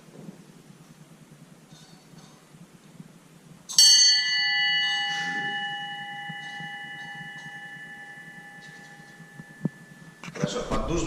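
A Russian harness bell is struck once and rings out with a bright, sustained metallic tone that slowly fades over several seconds, while a voice talks in the background.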